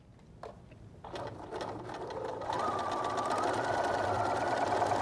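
A domestic sewing machine stitching quilt fabric pieces with a straight foot, starting with a few clicks then running up to a steady, fast mechanical whir that continues at moderate volume.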